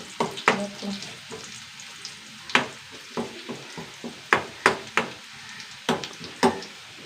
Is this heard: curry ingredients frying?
yes